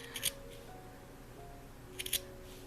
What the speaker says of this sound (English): I'm just going to cut here and work my way back